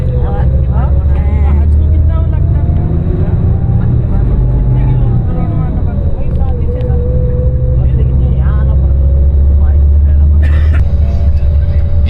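A car drives along a road on a trip around Makkah, its steady low engine and tyre rumble continuous and fairly loud beneath someone talking.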